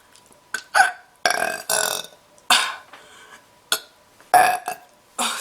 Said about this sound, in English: Oh, I had to burp today.